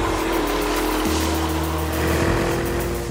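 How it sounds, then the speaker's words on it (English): Porsche Cayenne sports SUV with a titanium exhaust and no middle silencer on the Hockenheim Formula One track, a loud, close engine note whose pitch shifts and drops through gear changes. "This is a titanium exhaust system with no middle silencer."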